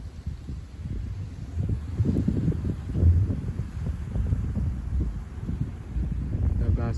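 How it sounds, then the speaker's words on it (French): Gusty wind during March showers buffets the microphone in low, surging rumbles that rise and fall without pause and stay fairly loud throughout. "Avec des rafales de vent dans les éclaircies jusqu'à 60 km/h."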